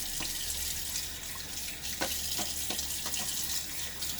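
A faucet runs steadily while a face is rinsed during a wet shave with a Gillette razor, with a constant rush of water broken by soft splashes and drips nearby.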